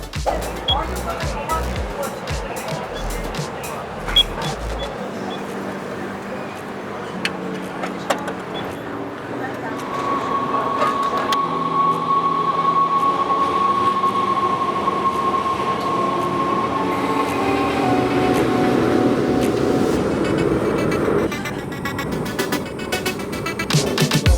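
Rumbling train ride in the Netherlands with rattling wheels, a drawn-out squeal midway, and people talking over the steady noise of the carriage.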